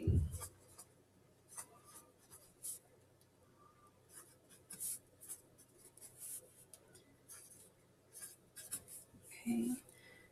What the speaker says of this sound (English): So as I go, I like to write it down.